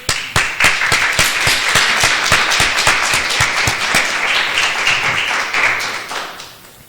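A church congregation applauds a testimony during a Spanish-language service, with loud rhythmic clapping from many hands that holds steady for several seconds and then fades out toward the end.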